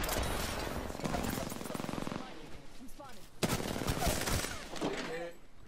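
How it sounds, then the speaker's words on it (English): Rapid automatic gunfire in the video game Apex Legends rattles in sustained loud bursts, breaking off briefly before a second burst, with a voice talking over the shooting. "The enemies are shooting at me."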